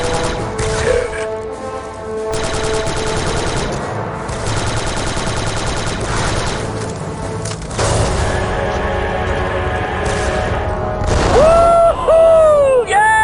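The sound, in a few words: explosions and gunfire in the video game Star Wars Republic Commando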